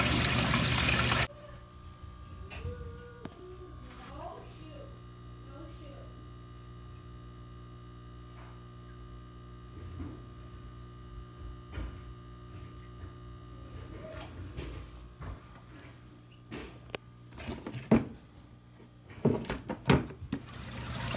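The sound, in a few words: aquarium sump water flowing through tube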